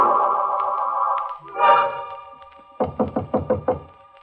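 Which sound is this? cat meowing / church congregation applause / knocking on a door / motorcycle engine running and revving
knocking on a door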